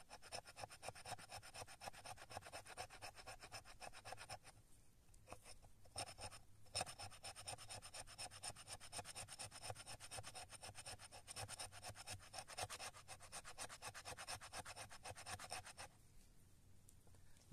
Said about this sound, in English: let's see if we can scrape a little fat wood down in here